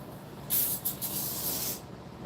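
Spray foam glue hisses out of a nozzle during an insulation installation, close and loud: two quick bursts followed by a longer continuous spray that cuts off abruptly, with no talking.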